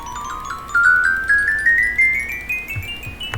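A Minecraft note block on a gold block plays a quick, steady series of high, glassy chime notes rising step by step in pitch, clear and up close.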